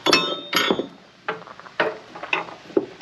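Metal bolts clink sharply against each other and against metal while being fitted to the PTO shaft cover of a Woodland Mills TFG55 5-inch wood chipper, several distinct bright taps spaced irregularly, close and fairly loud.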